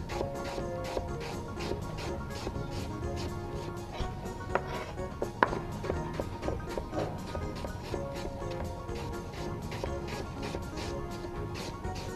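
Apples being sliced thin with a knife for a caramel apple coffee cake, giving quick, repeated soft cuts and taps against a board, fairly faint and steady over a low kitchen background.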